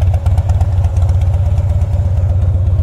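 A 2007 Harley Davidson Softail Custom V-twin runs steadily, its loud, close, lumpy potato-potato idle pulsing evenly throughout with no voices.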